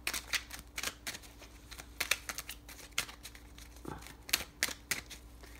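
Deck of more than a hundred oracle cards being shuffled by hand, a run of quick papery riffles and soft slaps in uneven bursts, close and fairly quiet with no talking.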